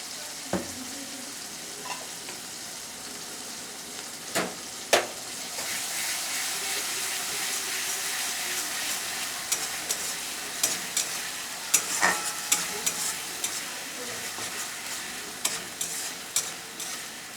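Onion and chilli paste with a little chopped tomato fry in a pan, making a constant close sizzle punctuated by sharp, irregular clicks and scrapes of a spoon stirring against the pan.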